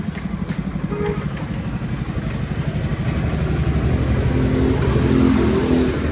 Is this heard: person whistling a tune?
no